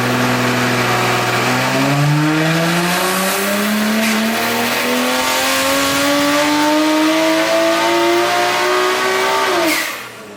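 A Nissan GTR engine on a dyno revs hard in one long, loud pull, its pitch climbing steadily from about two seconds in before cutting off sharply near the end.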